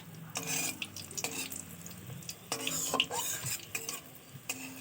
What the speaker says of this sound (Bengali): দেখেছো তেলটা কি সুন্দর বুজবুজি কাটছে